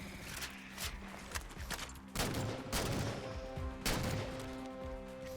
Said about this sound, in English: So I can use a sniper rifle on the crawlers